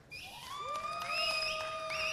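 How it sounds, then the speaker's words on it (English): A crowd cheers loudly at a national honours award ceremony, with high, sustained whoops and shouts that swell and hold for a couple of seconds over a steady, close murmur. "with a very loud cheering party this morning, celebrating her as she receives an award"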